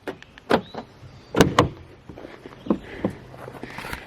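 A Volkswagen Passat door is handled and opened, a few sharp clunks and rattles of the latch and panel spread over a few seconds, close by and without speech.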